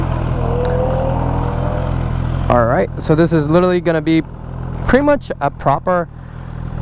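An MV Agusta Brutale motorcycle idles close by with a steady low thrum and a brief rising rev early on, then keeps running beneath someone talking.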